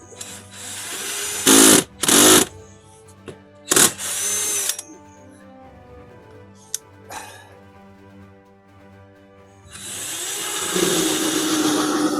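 A power drill whirs in several short bursts, biting and grinding into a thick insulated camper bus floor, with a steady motor hum between bursts and a longer run at the end.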